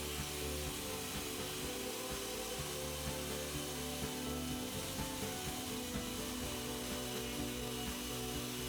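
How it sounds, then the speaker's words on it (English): A steady, continuous whir of a two-speed power sander grinding down excess cooled plastic weld material, constant in level with a rough, buzzing texture throughout. "starts with the 2-speed sander to remove the cooled welding material that is too high"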